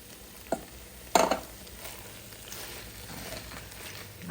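A spoon stirs drained petite diced tomatoes into melted cream cheese in a pan, giving a couple of scraping clacks against a faint steady sizzle.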